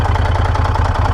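A rebuilt Moto Guzzi Stelvio twin-cylinder motorcycle engine runs steadily at idle, a loud, close, even throb with light mechanical clatter throughout and no voices.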